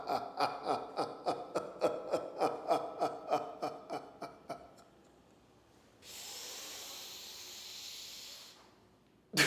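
Deep breathing from a breathing exercise: a rapid run of about fifteen rhythmic, forceful breaths, then a pause and one long, hissing exhalation lasting a few seconds, close and alone with no talking.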